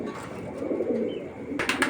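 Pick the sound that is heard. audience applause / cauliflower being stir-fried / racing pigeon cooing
racing pigeon cooing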